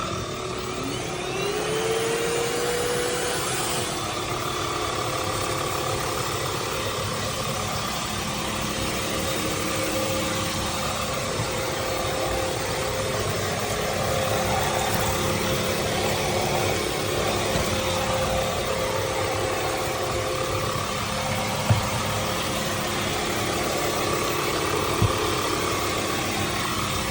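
A Suirviz cordless vacuum cleaner runs steadily over a dusty floor, a constant close whirring motor drone with airy hiss that holds level throughout, no voices.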